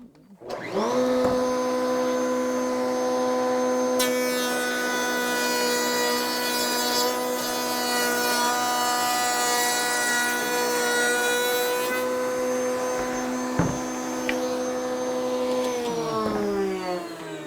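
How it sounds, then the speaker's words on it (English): A router mounted in a router table runs at a loud, steady whine while cutting a tongue along a wooden shelf board, with a dense, higher-pitched cutting roar through the middle of the run before the motor winds down. "So we'll come into here, turn our router on."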